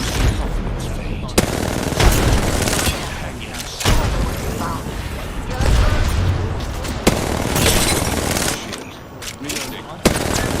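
Rapid gunfire from smart bullets in a first-person shooter video game, dense bursts with sharp cracks and booms across the whole stretch, loud and close, mixed with game effects and occasional speech.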